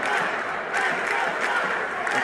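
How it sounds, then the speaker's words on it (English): A baseball crowd roars during an on-field fight, a continuous wash of cheering and shouting voices that swells and dips in waves, moderately loud and without a clear single voice on top. "The 10 crowd members in this one are making noise now."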